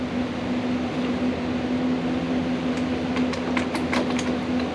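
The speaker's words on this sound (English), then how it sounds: "Might be noisy with the fan" A fan runs steadily in a workshop, giving a constant whooshing drone with a low hum, plus a few light clicks and knocks toward the end.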